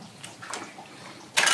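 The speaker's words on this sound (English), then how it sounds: "I did save off a couple cups of this water" Cooking water from a pot of spaghetti poured off into a container, with a soft trickle followed by a sudden, loud splashing gush near the end.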